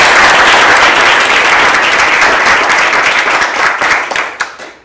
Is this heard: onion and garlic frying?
no